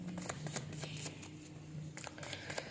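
Tarot cards shuffled by hand at close range, giving quiet, quick riffling and flicking bursts in an uneven rhythm.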